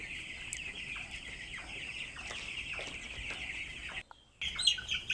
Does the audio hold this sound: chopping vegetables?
no